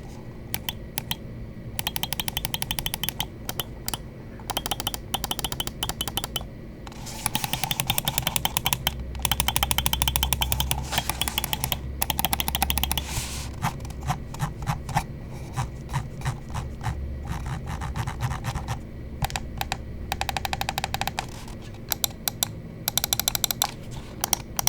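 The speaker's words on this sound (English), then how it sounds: "let's go ahead and drop the click quality sound check" Button clicks from a Zaopin ZPW gaming mouse come in long runs of rapid, sharp, close clicking, with a few brief pauses between bursts and no voices.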